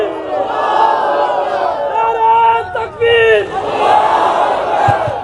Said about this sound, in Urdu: زور سے نعرے کا جواب دو۔